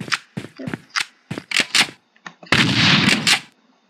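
Gunfire in a video game, heard as a string of sharp separate shots in an uneven rhythm, then a dense, loud burst of rapid fire that cuts off abruptly, all close and alone.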